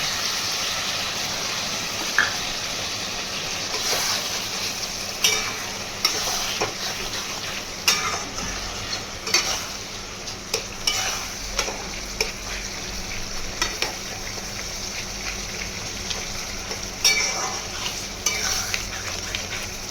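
Half-fried onion and capsicum sizzle steadily in a pan after vinegar is added for chili chicken, with repeated scraping and clinking strokes of a spatula stirring at a loose, irregular rhythm.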